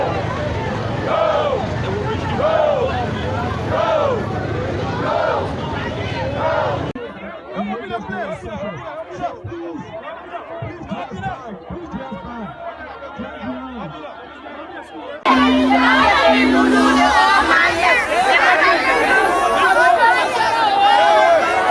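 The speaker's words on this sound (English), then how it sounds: "The crowd is too much." A large protest crowd fills the air with a dense, loud babble of many voices, its level and texture shifting abruptly a few times, with one louder, brighter stretch toward the end.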